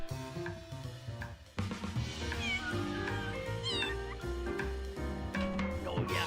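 A cartoonish cat meows repeatedly in a video game, its rising and falling cries set over a busy bed of game music and sound effects that runs throughout.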